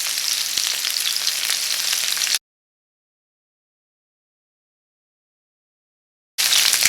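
Chicken sizzles and crackles in a frying pan up close, cutting out into silence for a few seconds before the hiss resumes.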